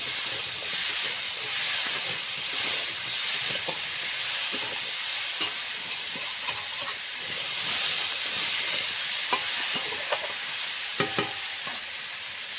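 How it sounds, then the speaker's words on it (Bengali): Onion and taro powder frying together in a pan, a steady close sizzle and hiss with scattered light stirring clicks and scrapes throughout, no voices. "এখন কচুর গুঁড়োটা পেঁয়াজের সঙ্গে ভালো করে ভেজে নেবো।"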